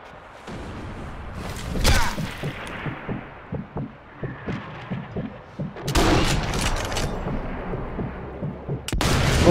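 Gunfire in Sniper Elite V2: a rapid string of sharp shots crackling in a regular rhythm, with louder bursts and blasts breaking in around the middle and at the end.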